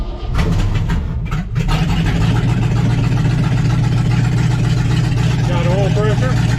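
A 1967 Chevy truck engine catches after cranking and settles into a loud, steady idle with a deep rumbling drone; a brief stumble early on, and a voice speaks faintly under the running engine.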